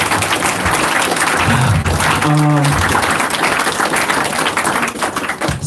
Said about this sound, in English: So wonderful round of applause once again for them.